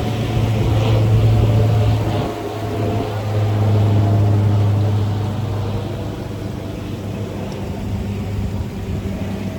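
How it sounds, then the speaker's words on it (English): A steady low mechanical drone of a helicopter passing overhead near the mountains of Juneau, Alaska, loud and sustained, swelling slightly and then easing off without fading away. "helicopter នេះបោះហោះលើក្បាលនេះ helicopter"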